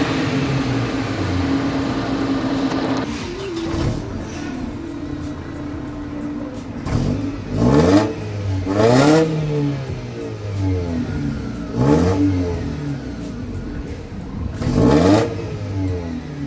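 A straight-piped Mercedes W204 starts up and revs in a loud, raspy burst, then idles and repeatedly blips the throttle, with several sharp rising-and-falling rev swells spaced a few seconds apart.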